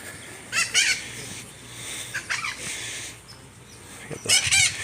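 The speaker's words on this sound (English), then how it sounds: "Got the thick-billed parrot making all kinds of noise." Thick-billed parrot at a zoo giving harsh, raspy squawking calls in three loud bursts over faint background hum and distant noise.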